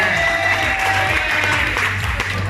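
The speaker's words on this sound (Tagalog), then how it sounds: "Maraming palakpak!" Applause from a group at an office team-building and family day, a continuous close wash of clapping and crowd noise, loud and steady across the whole stretch.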